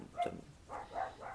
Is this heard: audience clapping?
no